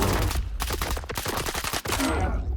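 Rapid automatic gunfire from the shooter game STALKER 2 rattles off in a quick burst of sharp, closely spaced shots, with a short break and a few more shots.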